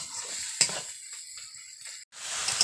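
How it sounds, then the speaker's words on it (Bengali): Chicken pieces frying and being stirred in masala in a pan, a steady close sizzle with a few scraping stirs and a brief clatter, the hiss cutting out for a moment before resuming. "মা এই যে মাংসটা কষতে শুরু করে দিয়েছে"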